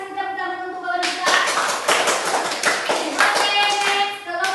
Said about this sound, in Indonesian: Oke, kita kasih tepuk tangan untuk kawan kita.